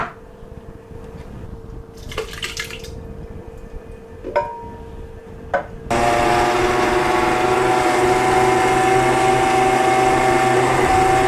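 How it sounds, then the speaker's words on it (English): A few clinks and knocks, then a blender roars on abruptly, blitzing a tin of chopped tomatoes, and runs steadily and loudly until the end. "1 tin of chopped tomatoes, which we're going to blitz in our blitzer, in our blender"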